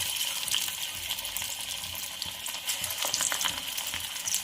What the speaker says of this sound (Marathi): तर दुसरी बॅच आपण तळून घेणार आहोत।